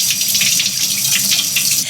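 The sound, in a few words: water running from tap while washing hands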